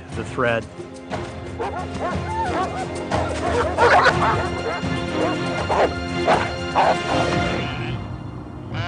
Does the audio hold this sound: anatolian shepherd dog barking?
yes